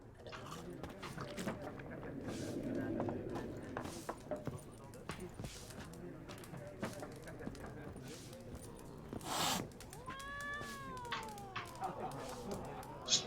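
A cat in The Witcher 3 gives a clear rising-and-falling meow near the end, set against game ambience with footsteps, hoof clops and background chatter.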